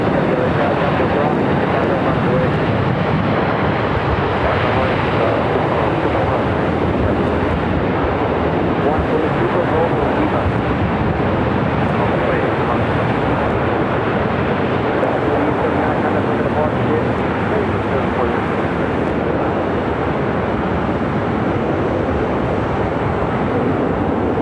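An American Airlines jet takes off from runway 25 right at Los Angeles airport, a dense, continuous engine roar holding loud and steady throughout.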